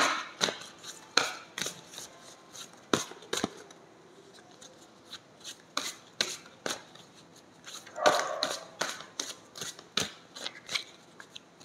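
Tarot court cards handled and shuffled on a table, a run of crisp snapping card flicks and slides in an irregular rhythm, close and fairly quiet, with no talk over it.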